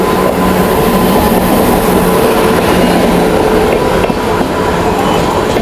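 A passenger train rolls into a crowded platform in India, a steady loud rumble of wheels and carriages filling the air, with faint crowd noise underneath.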